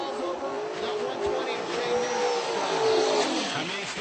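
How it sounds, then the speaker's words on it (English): Drag racing car engine at a radial tire event, a distant droning roar that wavers and stumbles during its run, heard faintly behind commentary. "The car stumbles, you can hear it out there"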